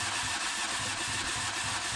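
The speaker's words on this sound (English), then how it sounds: "when you do the cranking of the engine, you do need to press the accelerator pedal fully down to open the throttle" A Dacia Sandero engine cranks over on the starter with the throttle held wide open for a compression test, giving a steady, loud rhythmic churning that pulses evenly throughout with no talk.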